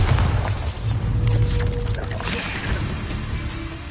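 The Bombarda spell in the game Hogwarts Legacy goes off with a booming, crashing blast mixed with debris-like smashes, all over steady in-game ambience.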